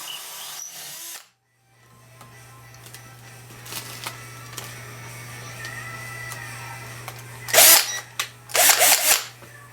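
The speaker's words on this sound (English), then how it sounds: "Run the drill backwards. It'll go through really slow and make a super clean hole." A power drill run in reverse whirs at a low, steady speed with a constant hum while boring a hole in a Squier Telecaster guitar's wood to fit tuners, then ends in two short, louder grinding bursts.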